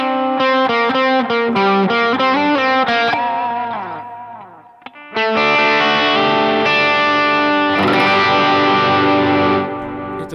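Electric guitar picks out a rhythmic pattern of notes, each repeated by a dotted-eighth delay from a Strymon D1 Mako with Cloudburst reverb that fills out the phrase, then sustained chords ring with wet echoes.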